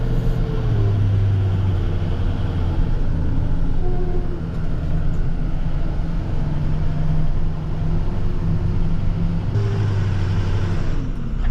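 A snowplow truck drives steadily through a winter storm, its engine producing a constant loud low drone with a few shifting tonal hums as it rolls along, and no voices are heard.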